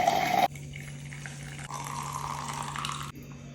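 Soda poured into a blended mint juice, a steady liquid splash and fizz running for a few seconds at close range with no voices.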